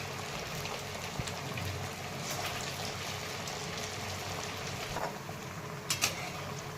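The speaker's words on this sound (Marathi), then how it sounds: "या पद्धतीने आता सगळे वडे हे तळून घेणार आहे मी" Sabudana vadas deep-fry in hot oil with a steady, dense sizzle and crackle that holds throughout, broken by a few sharper pops near the end.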